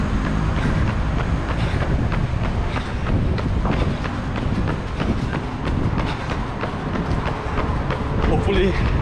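A train at a station in Bangkok rolls past loudly and close, its wheels giving a rapid repeating clatter over the rails, with wind buffeting the microphone throughout.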